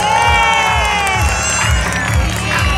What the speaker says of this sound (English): a big round of applause for those Pikachus!